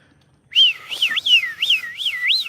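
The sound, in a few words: person whistling imitating bird calls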